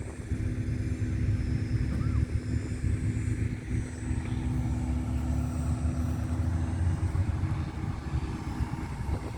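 A bulldozer engine runs steadily while pushing soil at an excavation site, a constant heavy rumbling drone with clattering mechanical noise throughout.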